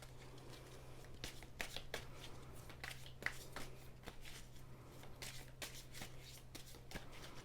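Tarot cards are shuffled and dealt by hand at close range, a run of quick papery riffles and soft slaps over a faint steady hum.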